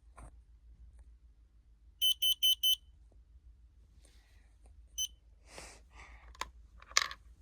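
A smoke alarm under test gives four quick, shrill beeps in a tight row, followed by faint clicks and crunching handling noises nearby.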